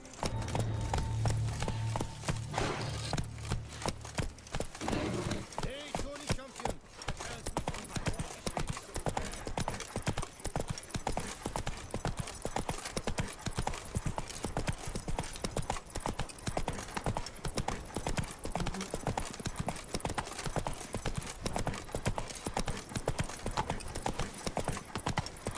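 A horse gallops in The Witcher 3 video game: rapid, evenly rhythmic hoof beats thud on and on for nearly half a minute, close and steady.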